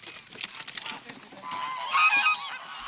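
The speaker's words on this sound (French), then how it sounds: "C'est des oies qui n'ont pas l'habitude de faire ce spectacle-là." Geese unused to a young dog's herding exercise honk repeatedly and loudly at close range during dog training in Franche-Comté, the cries swelling into a denser, higher burst near the end.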